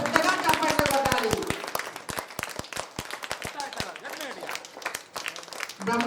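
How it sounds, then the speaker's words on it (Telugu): An audience clapping at a bhajan felicitation at a temple, a burst of close, brisk applause that thins out into scattered claps, with voices talking over it. "అందరూ పెద్దగా చప్పట్లు కొట్టాలి."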